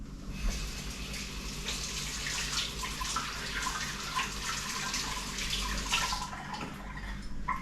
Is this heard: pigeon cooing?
no